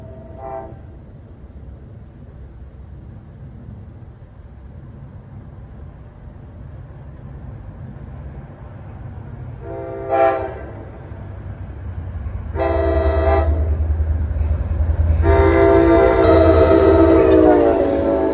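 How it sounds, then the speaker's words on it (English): Passenger train 61 bound for Port Jervis passes on the former Erie main line in northern Bergen County, New Jersey, with a steady rail rumble that swells as it approaches and several distinct horn blasts. "approaching at 7:12 is train 61 to Port Jervis"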